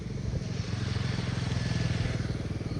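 A motorcycle engine idles and putters steadily close by, its low rhythmic thrum holding even for the whole stretch.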